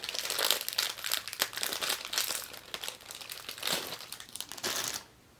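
Tough plastic packaging from a Beyblade toy crinkles and crackles as it is handled, a dense run of sharp crisp rustles with louder bursts, close up and continuous for about five seconds before going quiet.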